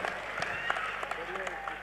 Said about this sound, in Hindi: बहुत ही जोरदार तालियों से कुमार विश्वास का स्वागत